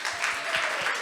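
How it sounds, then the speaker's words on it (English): A small audience at a storytelling healing workshop gives a brief, soft round of applause, a light patter of hands over a second. "Can we get a round of applause?"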